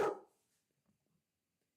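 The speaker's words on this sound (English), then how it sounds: "She's barking through the window out the window." A dog indoors barks out through a window: a single short, moderately loud bark right at the start, followed by near silence.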